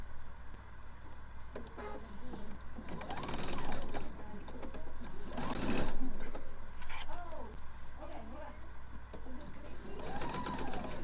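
A sewing machine stitches mesh using a 1/4 inch foot, its motor whirring and needle rattling steadily at close range, with someone talking over it throughout.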